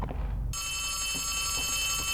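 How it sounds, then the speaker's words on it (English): In Poppy Playtime Chapter 3, an aggressive, loud phone suddenly starts ringing after half a second of low rumble, its piercing bell sustained and near for the rest of the moment. "That is a loud and aggressive phone."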